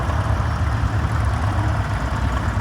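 A vintage American-built Ford tractor with Ferguson hydraulics runs at a vintage rally parade in Cupar, Fife, its engine chugging in a steady low idle, close and loud, with no voices.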